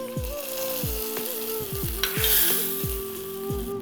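Cashews and raisins frying in hot ghee for a payasam give off a steady, close sizzle with repeated stirring scrapes, and no one speaks.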